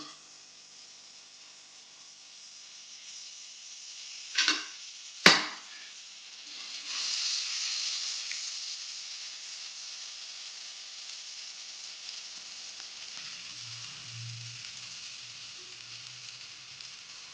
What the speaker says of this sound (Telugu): ఇప్పుడు స్టవ్ మీద కొత్త ప్యాన్ పెట్టుకొని, ప్యాన్ హీట్ అయ్యాక 1 tablespoon బటర్ యాడ్ చేయాలి.